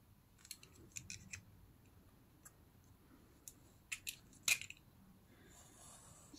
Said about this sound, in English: I'm gonna also cut out that picture inside